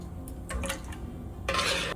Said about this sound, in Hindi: अब मैं इसे धीरे धीरे करके एक एक चम्मच करके मैं इसे डालती जाऊंगी और हिलाती जाऊंगी